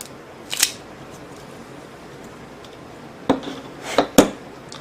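A cigar cutter snips the end of a CAO cigar in a few short, sharp metallic clicks, one early and a cluster of three near the end, heard close up against a quiet background.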